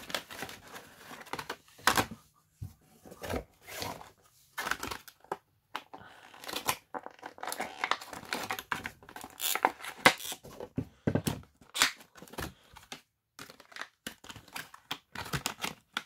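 A Nintendo Switch game box for Monster Hunter Stories 2: Wings of Ruin, its glued top being cut open: irregular bursts of sharp cutting, scraping and crinkling close by, with brief pauses between strokes.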